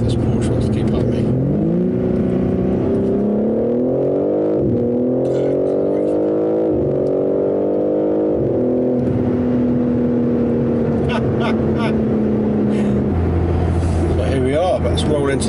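A car engine accelerates hard on a road drive while racing a Porsche, the pitch climbing and dropping through several gear changes, loud and close, then settling into a steady cruise with a deeper rumble near the end.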